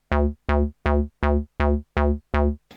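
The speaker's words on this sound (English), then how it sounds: "I will add a bass on the backbeat like this" A Korg Volca Bass synth line plays seven evenly spaced, punchy square-wave bass notes on the backbeat, each loud and short with a quick decay, in a steady rhythm.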